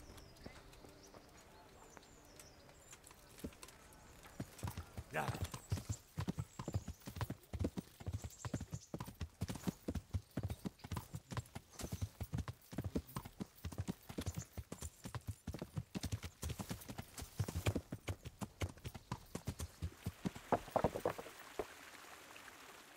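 Rhythmic clip-clop of horse hooves trotting steadily on hard ground in the video game Kingdom Come: Deliverance, close and continuous, slowing and fading out near the end.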